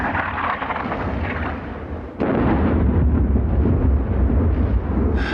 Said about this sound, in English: Seems like preparatory fire. German.